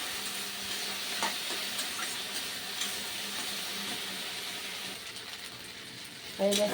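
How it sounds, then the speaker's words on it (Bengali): Okra (bhindi) fries in a pan with a soft, steady sizzle and occasional stirring clicks, with a louder utensil clatter near the end. "ভেন্ডি ভাজাটাও প্রায় হয়ে গেছে"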